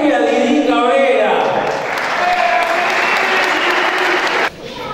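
A crowd breaks into loud, sustained applause honouring the first woman member of Club Atlético Juventud Unida at its 80th-anniversary celebration; the clapping fades slightly toward the end, with a voice over it.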